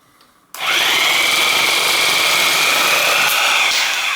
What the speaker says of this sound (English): So I'm going to use my Sawzall.